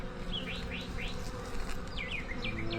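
Honey bees drone steadily from an opened hive while its frames are inspected to find the queen and make a split. The hum is low and soft, with a few thin bird chirps breaking through.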